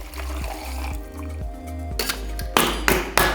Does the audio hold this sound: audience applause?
no